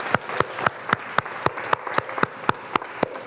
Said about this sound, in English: Let's give Kim and the team and our first presenter a warm round of applause.